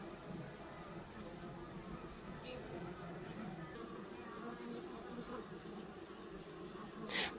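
Honey bees flying around hives during the main summer honey flow, a steady low insect hum running through the whole stretch with a few brief brighter buzzes of individual bees passing close.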